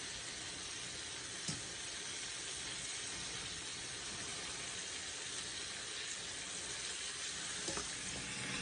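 Chicken livers fry in a pan with a steady, even sizzle and hiss throughout, faint and continuous, with one or two soft clicks and no talking.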